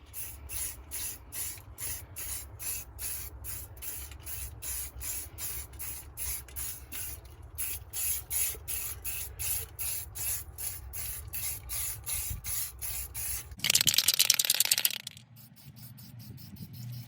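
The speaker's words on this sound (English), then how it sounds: "Alright, that's the first coat of primer." Sandable primer sprayed from a can onto a rust repair on an Acura RSX, heard as a long run of short rhythmic hisses close by, then a louder continuous spray burst near the end before it trails off.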